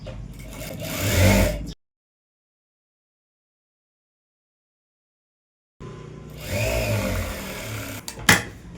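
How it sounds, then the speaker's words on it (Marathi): A domestic sewing machine runs in two bursts as it stitches lining onto a princess-cut blouse at the neck and waist, a steady motor whir with a long silent gap between the bursts. "त्याच्यावरती असं अस्तर ठेवून घ्यायचं आणि ते गळ्याला आणि कमरेला दोन्हीकडे एकदमच शिलाई मारून घ्यायचं आहे"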